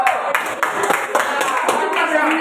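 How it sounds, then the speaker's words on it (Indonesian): Students in a classroom applaud group two for finishing early, with a brief burst of dense, fairly loud clapping from many hands that lasts a couple of seconds. Voices can be heard mixed in. "kasih dulu tepuk tangan"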